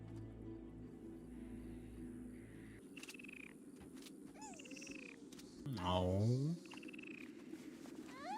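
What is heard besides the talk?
frog croaking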